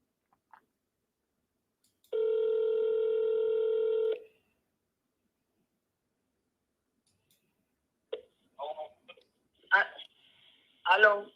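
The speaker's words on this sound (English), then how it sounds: "Oh, her phone is ringing." An outgoing telephone call gives one steady ringback tone lasting about two seconds, followed by silence and then short bursts of faint talk.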